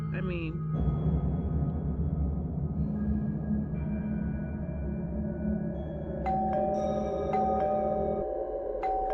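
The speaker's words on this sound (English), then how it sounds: "Who would be ringing my doorbell so late?" A doorbell chimes late at night, with a couple of bright ding-dong tones near the end, following a low sustained drone, with a voice speaking over parts of it.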